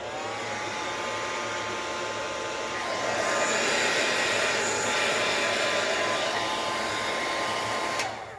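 A hair dryer blows steadily and loudly up close, drying paint on a mixed-media art journal page, its whine shifting slightly midway before cutting off near the end.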